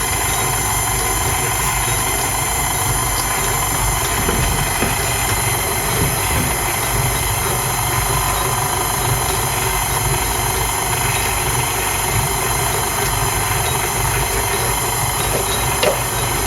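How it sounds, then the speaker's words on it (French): Stand mixer running at first speed mixing dough for tigelle, a loud, continuous motor drone with steady low rumble and no pauses, heard close with no one speaking. "on va déjà mettre au batteur en première vitesse"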